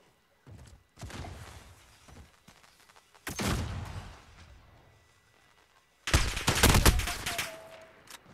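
Video game gunfire rings out in bursts: a few loud, close volleys of rapid shots, the last and heaviest near the end, separated by quieter gaps.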